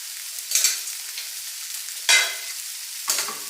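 Sausage being stirred into Zuppa Toscana broth in a pot: three separate scraping swishes of a spoon against the pot, close by, with quiet pauses between them.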